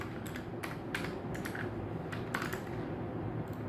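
Someone types on a computer keyboard, making a quick, irregular run of light key clicks over a low background hum.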